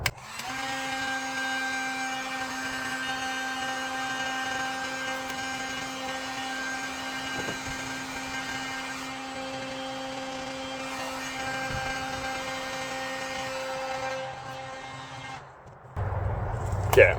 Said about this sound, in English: I'm not sure that the heat gun's going to actually work very well